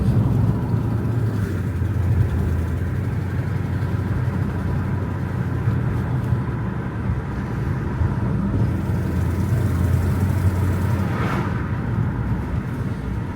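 A rebuilt Dodge SRT8 bought for $3500 as a Copart salvage car drives along with a steady, loud low engine drone and road rumble throughout, holding an even level with no clear rev spikes and no talk.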